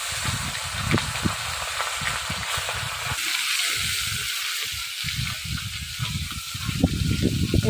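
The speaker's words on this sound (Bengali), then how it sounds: "এখন পুঁটি মাছ ভাজতেও ফোটে" Small puti fish fry in hot oil, making a constant hiss with irregular crackles and popping spatters that come close together and get busier toward the end. No one talks.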